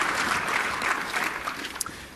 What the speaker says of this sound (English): Round of applause for Mike and Graviton Energy Resources.